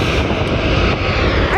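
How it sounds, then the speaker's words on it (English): An Airbus A350 airliner passes overhead at a plane-spotting spot, making a loud, steady broadband jet roar that fills the whole moment without letting up. "That's an A350."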